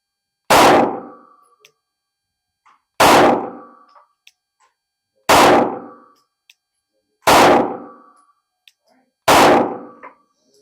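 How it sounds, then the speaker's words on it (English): Five pistol shots at a steel target, fired with a red dot sight, come as sharp, loud cracks about two seconds apart, each ringing briefly off the steel before fading into silence. "I'm going to shoot 5 rounds with the red dot."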